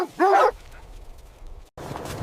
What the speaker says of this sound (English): Near another hut, huskies, which are an important part of these people's lives,